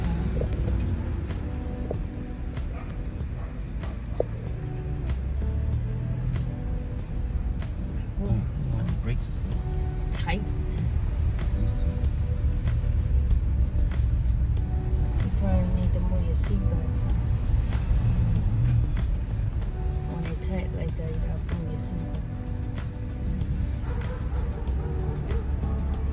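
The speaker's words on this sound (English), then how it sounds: "Riding in the truck." Steady low road rumble from inside a moving truck near a campground, continuous engine and tyre drone with a few scattered knocks and rattles, people talking faintly throughout.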